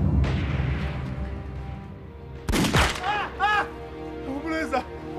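Gunfire from a Japanese sniper in a Chinese anti-Japanese war drama: a loud sharp shot bursts in midway after rumbling battle noise, followed by ringing echoes and further bangs, with a voice shouting over the scene.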